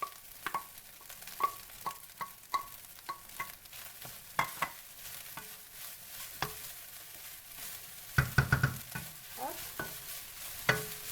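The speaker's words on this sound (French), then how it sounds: "Feu fort, mais toujours en remuant." Carrots and peas stir-fried over high heat for Cantonese rice: a soft sizzle under repeated clacking spatula strokes against the pan, with a brief spoken word near the end.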